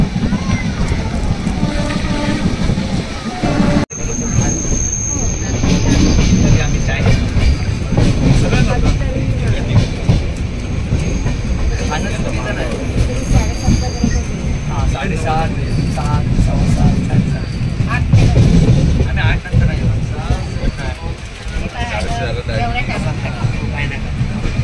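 A passenger train runs along a route through Konkan stations and river crossings, a loud, continuous rumble and rattle with a sharp break near the start, and voices talking over it in places.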